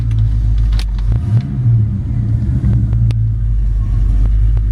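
A 1940 Ford pickup resto rod with a Ford engine running and driving, a loud, low rumbling engine close by with a brief shift in pitch and a few light clicks, no talk.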